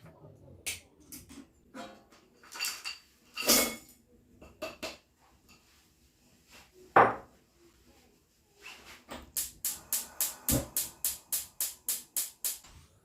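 A spoon stirs dark chocolate, a mix of bar and chips, melting in a pot, with scattered scrapes and clinks and then a run of quick, evenly spaced taps against the pot.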